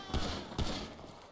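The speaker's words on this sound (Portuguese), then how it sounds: "olha o tiro passando" Gunfire crackles during a shootout in GTA V: two sharp bursts of shots ring out about half a second apart over a constant background hiss, and the second burst decays slowly, with no speech.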